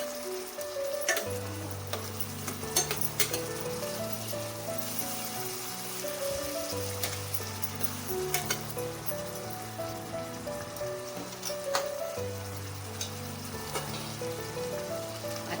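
Snake gourd and val dal sauté quietly in a pan, giving a soft, steady sizzle and crackle with faint occasional stirring clicks.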